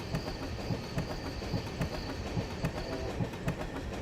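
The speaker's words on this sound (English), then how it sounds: "all of these little short fragments of trains" Short fragments of train noise, rolling rail rumble and clickety-clack, loop in a steady rhythmic pattern, dense and continuous with regular clacks, no voices.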